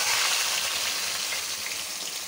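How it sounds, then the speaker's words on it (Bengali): Marinated meat frying in hot oil with garam masala, a bright steady crackling sizzle, close and fairly quiet, with no talking. "গরম মশলাটা তেলে দিয়েছি। এখন মাংসটা দিয়ে দিব।"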